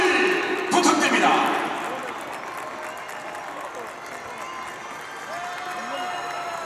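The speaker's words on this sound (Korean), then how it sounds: "함께 승리 박수를 부탁드립니다" Stadium crowd applauding at a K League football match between Incheon United and Daegu FC, a broad wash of clapping that swells early then settles into a steady distant roar, with an announcer's voice over the top.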